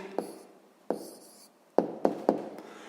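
Pen on paper as an answer to a sixth-grade maths problem is written out by hand, a few sharp taps and short strokes spaced irregularly, close and alone.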